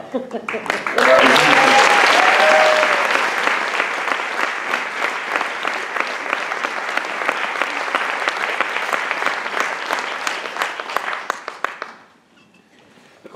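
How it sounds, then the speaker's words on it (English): A wedding reception crowd applauds the newly married bride and groom, loud sustained clapping with cheering that swells at the start, carries on steadily for about ten seconds, then fades out quickly. "give a round of applause for your bride and groom, Mr. and Mrs. McGucken."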